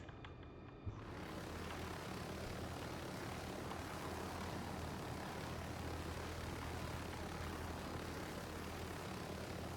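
A helicopter in a video game comes in to land, its engine and rotor making a steady, loud broadband roar that holds for nearly ten seconds after a sudden start, with no talking.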